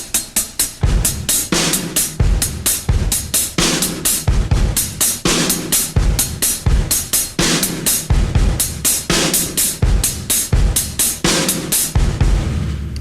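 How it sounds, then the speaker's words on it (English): A drum kit plays a steady 16th-note groove, close and loud, with rapid hi-hat ticks over punchy kick thumps and sharp snare cracks in a tight repeating pattern, no voices. "the three voices in question here for now will be the hi-hat, kick, and snare"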